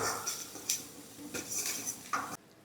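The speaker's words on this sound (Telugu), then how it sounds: "ఇప్పుడు ఉల్లిగడ్డ మగ్గేంత వరకు మనం కలుపుకుందాం." Thinly sliced onion cooking in a pan for butter chicken, stirred with a utensil that scrapes and knocks against the metal in several distinct strokes, fairly close and moderately loud.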